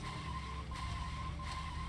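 A steady tire squeal from a skidding car in the video game Deadly Premonition: The Director's Cut, held at an even level with a faint engine hum beneath it and a brief dip midway.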